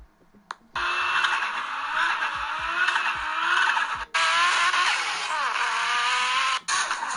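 A racing car's engine revs loud and high, climbing in pitch through several sustained pulls separated by abrupt shift breaks, heard from close by.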